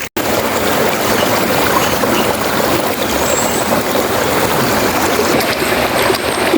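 Cold, clear spring water flowing steadily at a natural bathing spot, a dense, continuous rushing and bubbling close by, with no talk.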